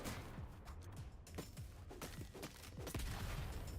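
A minigun in the online shooter Bullet League fires in rapid, sustained bursts with scattered impacts and blasts around it, loud and dense throughout a busy tournament match.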